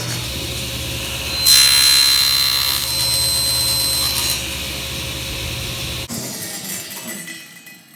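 A power saw cuts wood on a box joint jig, a loud steady whine with a bright high-pitched cutting stretch in the middle before the blade cuts off abruptly and spins down, no speech.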